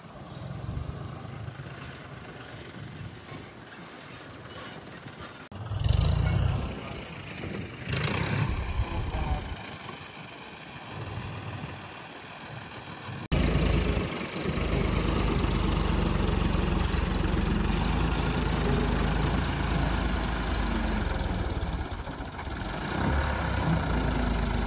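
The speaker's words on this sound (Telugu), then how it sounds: "డోజర్ ట్రాక్టర్ వచ్చింది, మొత్తం ల్యాండ్ అంతా లెవెల్ చేస్తుంది" A dozer tractor levels damp farmland beside a coconut plantation, its engine droning steadily and growing louder and closer partway through, with low rumbling and mechanical clatter and no talk.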